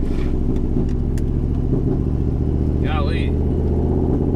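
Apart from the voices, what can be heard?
engine of a 500hp street truck running rough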